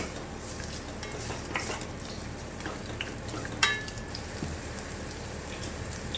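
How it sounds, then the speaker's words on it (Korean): Steady crackling sizzle of garlic frying in oil, a continuous bubbling hiss with a few sharper pops and clinks, no voices. "기름 온도가 올라오면 마늘을 넣고 먼저 마늘 기름을 내줍니다."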